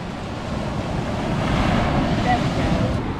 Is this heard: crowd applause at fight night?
no